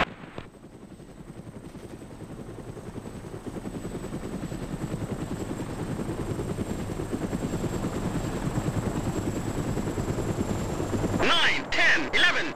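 A helicopter in the combat game ArmA Resistance drones steadily and grows gradually louder, ending in a few sharp bursts.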